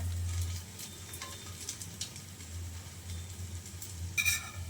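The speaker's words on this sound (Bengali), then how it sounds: "এই পিঠটা একটু ভেজে নেওয়ার পর আমি সাইডগুলো এইভাবে চামচ আর খুঁজি দিয়ে ধরে ভেজে নেব" Egg-and-milk soaked bread slice frying in a pan, a steady soft sizzle running throughout with occasional scrapes and taps of a spoon, and a brief sharper crackle near the end.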